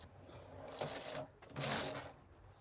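A knitting machine carriage is pushed across the bed for rows of lace, two loud rasping sweeps with a short pause between, close and mechanical.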